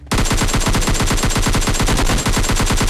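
Rapid automatic gunfire in PUBG Lite, a loud continuous burst of evenly spaced shots filling the whole stretch with no pauses and no talk.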